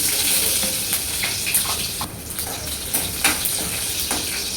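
Mustard seeds, cumin, curry leaves and chopped garlic fry in hot oil, giving a steady close crackling sizzle with occasional sharper pops.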